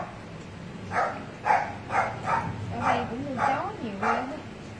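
Guard dogs bark repeatedly in a wealthy residential area, a string of about seven barks at a steady rhythm, moderately distant, while people talk nearby.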